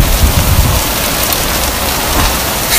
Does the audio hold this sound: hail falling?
yes